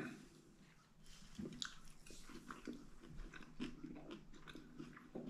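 Someone close by chews a three-egg omelet with crunchy bacon, sausage, vegetables and salsa, giving a quiet run of wet bites and crisp crunches, with no talking.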